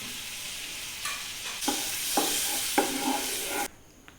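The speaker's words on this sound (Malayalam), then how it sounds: "ഒരു കടായി അടുപ്പത്ത് വെക്കുക, കുറച്ച് എണ്ണ ഒഴിക്കുക, ബട്ടർ ഇടുക" Butter and oil sizzle in a kadai on the stove, cooked for butter garlic egg: a soft hiss at first that swells into a louder, crackling sizzle with stirring clatters, then cuts off sharply near the end, with no speech.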